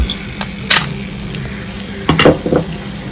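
Bay leaf and whole pulao spices dropped into hot oil and ghee for a simple pulao, giving a low steady sizzle with a few sharp crackling bursts and clinks of a pan.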